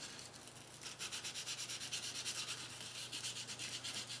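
Folded sandpaper rubbed over lacquer on the fingerboard of a 1986 Squier Bullet guitar: quick, regular back-and-forth scratchy strokes close up, starting after a short quiet moment and continuing evenly.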